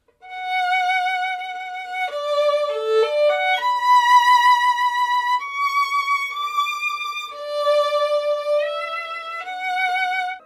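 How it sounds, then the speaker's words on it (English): Solo violin plays a slow melody with sustained notes, each wavering in pitch with a clear vibrato, close and clean with no speech. "Vibrato is the term for the oscillation in pitch we find in most singing and string playing."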